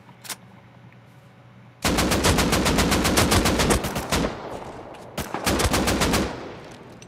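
Automatic gunfire from a gun in the console video game Rust: a short single shot, then a long rapid burst, a brief pause and another burst, loud and close.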